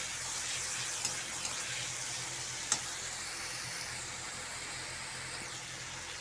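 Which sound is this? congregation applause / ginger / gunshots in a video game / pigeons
ginger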